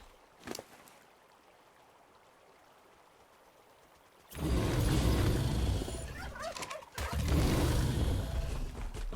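Turkeys gobble in the ARK: Insane Island game, a brief call near the start, then louder rushing, splashing noise with harmonic gobbling warbles rising through the second half.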